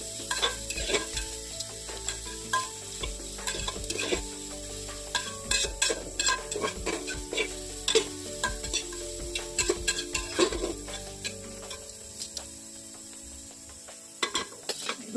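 Ingredients being sautéed in a pan for pendpala, a steady sizzle under repeated scraping and stirring strokes of a spatula against the pan, close and continuous with no voices.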